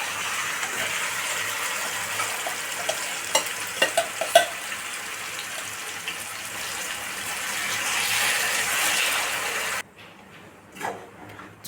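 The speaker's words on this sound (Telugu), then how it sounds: "ఫ్రై అయిపోయిన తర్వాత అలాగే ముందుగా మనం మ్యాగ్నేట్ చేసి ఉంచుకున్న మటన్ కూడా వేసేసుకుందామండి" Marinated mutton dropped into hot oil with fried onions, sizzling loudly and steadily from close up with scattered clinks and stirring, before the frying drops away to a quieter bubbling.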